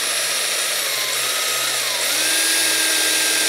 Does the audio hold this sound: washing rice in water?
no